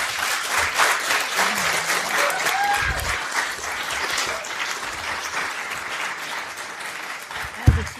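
Sustained audience applause at a town council candidate forum, steady dense clapping filling the room for several seconds with a brief louder thump near the end.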